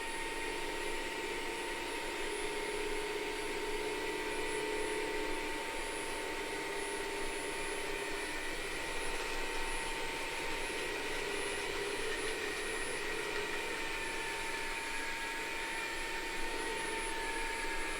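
A Bissell wet-dry vacuum runs on max suction with a steady, high-pitched whine and airy roar, unbroken and fairly close for the whole stretch, no talking.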